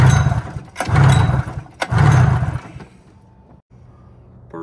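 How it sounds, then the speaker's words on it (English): A Polaris XLT 600 triple snowmobile engine is pull-started wide open during a compression test on the center cylinder. About three loud, rough cranking bursts come close together, then the sound drops to a quieter hum. "Now for the center cylinder, again wide open, 5 pulls."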